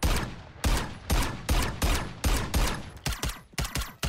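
Rapid bursts of the custom Rival 9 gun firing sound in Call of Duty MW3, about a dozen sharp, loud shots in quick succession, the last few spaced more unevenly, with no talking.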